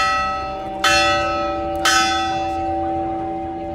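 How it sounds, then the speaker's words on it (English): A monastery bell at Dragonstone rings out twice in this stretch, each heavy strike followed by a long, shimmering hum that lingers between blows; no voices are present. "People ring the bell 3 times in honor of Khaleesi and her 3 dragons."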